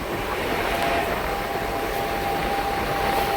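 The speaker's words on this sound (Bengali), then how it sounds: "শুধু লাইনটা দেখুন কতটা কার্ভ নিয়ে ছুটে চলেছে আমঘাটার পথে ট্রেন" A local train runs on the broad-gauge line from Krishnanagar toward Amghata, making a continuous rumbling hiss with a faint steady whine. It stays even and fairly loud throughout.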